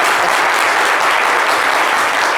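A studio audience applauds steadily, a loud, continuous wash of clapping that holds the same level from start to finish.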